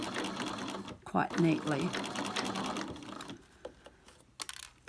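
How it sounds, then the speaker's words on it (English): A sewing machine stitches a beret seam in quick mechanical bursts, near and clear, stopping and starting as a voice talks over and between the runs. "when we're sewing with our sewing machine, we're not trying to force it through"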